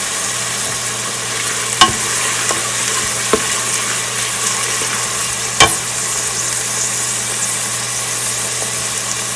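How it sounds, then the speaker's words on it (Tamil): Onions and green chillies sauté in a pan for mutton biryani, giving a steady close sizzle with a few sharp clicks from a stirring utensil and no talking. "வதங்கக்குள்ளேயே பச்சை மிளகாயும் சேர்த்து வதக்க விடுவோம்"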